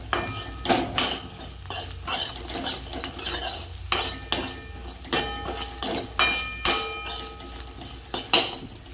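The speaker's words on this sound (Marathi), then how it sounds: "हलवून घेतो मस्तपैकी." A spoon scraping and clanking in a pan while stirring salted poha ingredients, rhythmic metallic strokes over a light sizzle, close and fairly loud.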